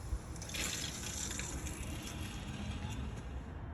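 Water rushes into an underground sprinkler valve box during a system startup, a steady low gushing fill that stays faint and continuous throughout.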